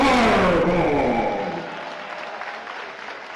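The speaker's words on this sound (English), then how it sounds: "how about one more round of applause for the women's basketball graduating class of 2024" A basketball senior-night crowd honoring the women's graduating class gives loud, dense applause that starts at full strength and gradually thins, with cheering mixed in.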